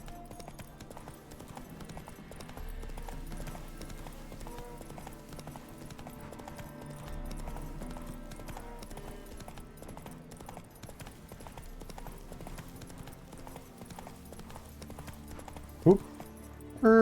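Continuous hoof clip-clops of a horse trotting in the video game The Witcher 3, steady and moderately loud under faint game ambience, with a couple of sharp clicks near the end.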